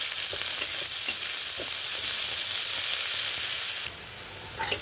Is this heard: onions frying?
yes